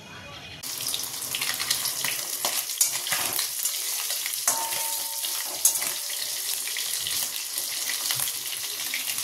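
Fish fries in a pan with a loud, continuous hiss that starts abruptly after a quieter moment and holds steady throughout, with occasional crackles and pops close by.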